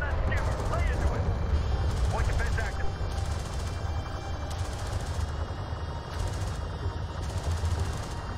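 Gunfire in the real-time strategy video game Homeworld: Deserts of Kharak, with repeated bursts of distant automatic fire over a low rumbling battle bed while game voices talk.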